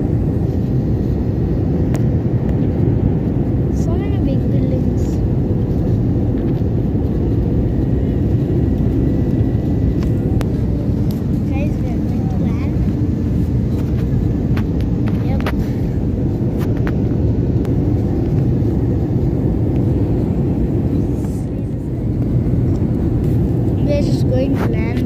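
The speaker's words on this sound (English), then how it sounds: "We are landing in Mumbai." Airplane cabin during landing approach into Mumbai, a loud, steady low engine and air roar filling the cabin throughout, with no clear talk over it.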